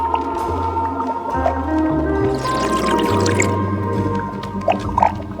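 A character gulps a bubbly liquid in the video game Genesis Noir, heard as wet squishing, dripping and bubbling over low, droning background tones.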